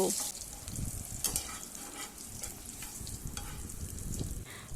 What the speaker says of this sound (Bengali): ফোড়নটা মোটামুটি 30 সেকেন্ড নাড়াচাড়া করে ভেজে নেব